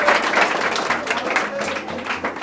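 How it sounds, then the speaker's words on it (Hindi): Audience applause at a cultural program and talent award ceremony, a steady wash of many hands clapping at moderate volume with some murmuring voices underneath. "तो एक बार फिर तालियां बजाई जाए।"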